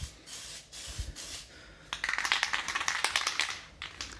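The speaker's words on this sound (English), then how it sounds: "It's like a spray adhesive." Short bursts of an aerosol can of spray adhesive, first a few brief puffs and then a longer run of hissy sprays close by, during a brake replacement on a CTS-V.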